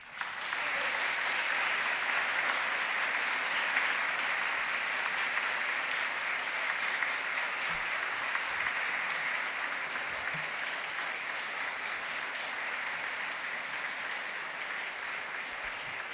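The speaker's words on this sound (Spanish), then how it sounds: "El público les puede brindar un merecido aplauso." Audience applause at a swearing-in ceremony for new lawyers at a supreme court, a long, even roar of many people clapping in a large room, sustained at constant loudness throughout with no voices over it.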